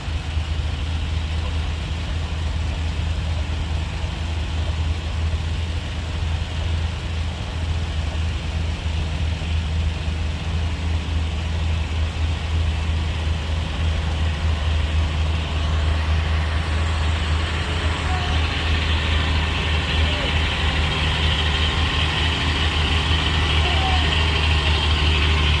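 Heavy Fuso trucks idle in a traffic jam on a hill at night, a continuous deep engine rumble holding steady throughout, with faint talk over it.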